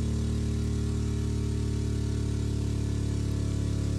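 A simulated steam engine in a video game runs with a steady, even low hum and regular pulsing, constant and unchanging throughout, with no talking.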